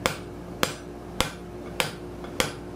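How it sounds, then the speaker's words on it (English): Hammer blows on a steel bar being upset while forging a rivet bucking bar for scroll making: five sharp, evenly spaced metallic strikes about 0.6 seconds apart, close and clear over a steady background hum. "Let me hammer on this a little bit here."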